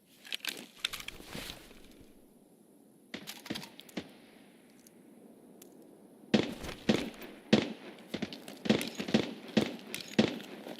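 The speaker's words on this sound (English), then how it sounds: "I love how fast this thing shoots." Rapid gunfire in the video game Escape from Tarkov, sharp cracking shot bursts in quick succession, a short volley early, then dense fast strings of loud reports later, with no speech over them.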